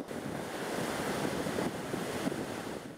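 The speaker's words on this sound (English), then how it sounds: "These pounding waves batter the East Coast and the Mayaro Beach." Pounding Atlantic Ocean waves batter Mayaro Beach on an east coast, a steady, loud roar of surf with wind buffeting the microphone and no voices.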